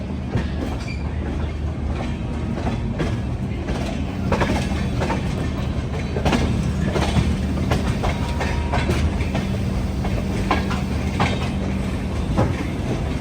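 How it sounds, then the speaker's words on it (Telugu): The Grand Trunk Express pulls out of New Delhi station, a steady, loud rumble with rhythmic clickety-clack of wheels over rail joints and faint wheel squeal throughout. "ఎగ్జాక్ట్లీ ఆన్ టైం అయితే బయలుదేరిపోయింది మన ట్రైన్."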